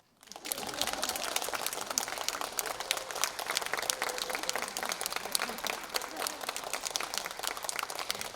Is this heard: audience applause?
yes